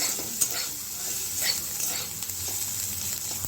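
Food fries in a pan until browned for a bottle gourd dish, a steady gentle sizzle with a few scraping stirs of a spatula close by.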